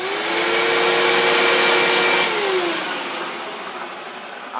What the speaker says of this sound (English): so this vacuum is not really loud, really